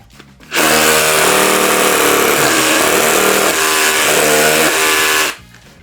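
A loud hammer drill bores steadily into concrete during a Japanese home renovation for about five seconds, a harsh grinding roar that starts and stops abruptly.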